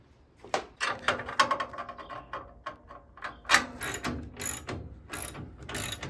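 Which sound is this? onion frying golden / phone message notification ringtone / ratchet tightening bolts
ratchet tightening bolts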